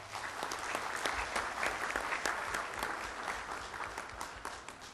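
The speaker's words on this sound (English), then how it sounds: "Could we give them another round of applause?" Audience applause at the opening plenary of the 2009 Global Peace Convention in Manila, a steady, dense wash of many hands clapping throughout, sustained and fairly even with no voices standing out.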